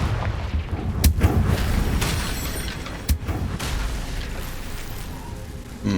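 Confringo fire-blast spell from Hogwarts Legacy, with sharp booming bursts near the one- and three-second marks over a steady rumbling game soundscape.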